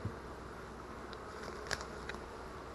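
Honey bees from a freshly installed package drone in a low, steady buzz around a hive. The sound is faint and continuous, with a few brief louder passes of bees flying close.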